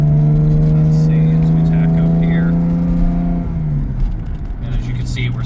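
A 1985 Jaguar XJS cruising at about 60 in fourth gear, heard from inside the cabin as a loud, steady engine drone that dips slightly in pitch near the end.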